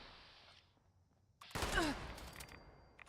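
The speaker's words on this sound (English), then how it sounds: "I'm getting shot." In Fallout 76, a sudden volley of gunfire hits the player. It follows a quiet lull as a loud, close burst of shots with a crackling tail, and a faint tone hangs beneath.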